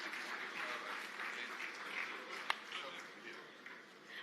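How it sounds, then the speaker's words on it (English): Audience applause fills a conference hall after a panel discussion at the Afreximbank 2025 Annual Meetings: a steady, moderately distant clatter of clapping lasting several seconds, with one sharper clap standing out midway. "Another round of applause, please, ladies and gentlemen."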